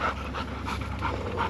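Female dog panting in the heat at a campsite, a fast, steady rhythm of breathy huffs close by, with no talk.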